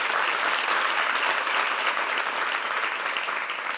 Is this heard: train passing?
no